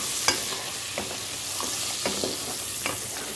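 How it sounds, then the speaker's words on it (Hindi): Arvi gosht, a curry of taro root and mutton, stirred in a pan: a soft constant sizzle with several distinct knocks and scrapes of a spoon against the pan at uneven intervals, no talk. "अब हमने इसको अच्छे तरीके से मिक्स कर देना"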